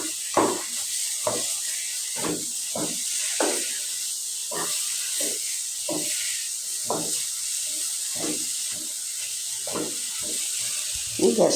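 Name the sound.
stirring and frying chickpea halwa in a pan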